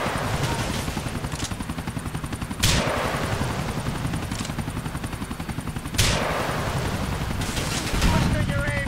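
A helicopter and rapid gunfire in the GTA 4 video game, with a steady loud rotor chop and dense rattling shots that run through the whole stretch, broken by two sharp louder bursts.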